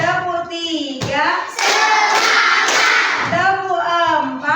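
Children clap hands together in a counting clap game in an elementary school classroom, a burst of unison claps in the middle framed by young voices chanting before and after.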